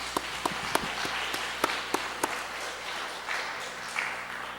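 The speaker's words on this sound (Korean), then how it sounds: "우리 하나님께 영광의 박수를 올려드리기 바랍니다" A church congregation gives a round of applause on a Sunday service, steady mid-level clapping with a few sharp individual claps standing out near the start, fading off toward the end.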